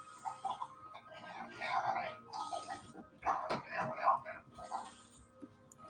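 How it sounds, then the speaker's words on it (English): A dog vocalizing in a run of short, whiny, talk-like yips and grumbles, fairly close and moderately quiet, in several bursts over a few seconds with pauses between. "My dog's speaking hell speak again."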